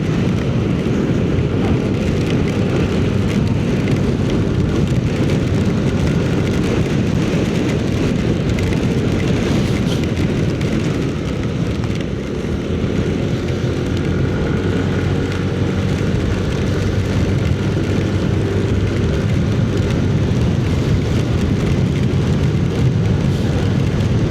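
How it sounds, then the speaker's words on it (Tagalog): Steady heavy rain roars continuously, a dense broadband wash with a low rumble underneath, constant and unbroken throughout. "Lakas ng ulan."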